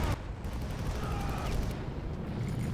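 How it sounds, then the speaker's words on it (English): Explosions and gunfire from the first-person shooter Far Cry: a dense, rumbling barrage of blasts and rapid shots fills the space at moderate volume, with no talking over it. "What is going on with the bombs here, man? The explosions."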